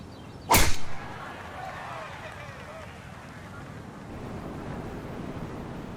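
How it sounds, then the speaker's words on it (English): Pacific surf crashes below a seaside golf course in the PGA Tour video game on PS5, a steady broadband wash following one sharp crack near the start. "start to hear the crashing waves below"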